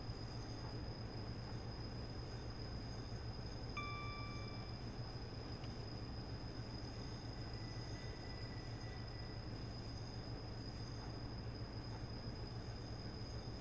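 An LNER HST train in Train Sim World 2020 on the Harrogate Loop rolls over the station approaches, giving a steady low rumble and running hum with brief faint tonal squeals partway through, with no voices.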